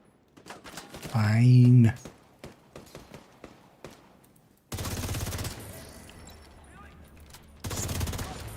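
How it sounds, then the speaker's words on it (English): Video game gunfire erupting in two sustained bursts of rapid shots, loud and close, after a stretch of sparse clicks and a short spoken word. "Opening fire!"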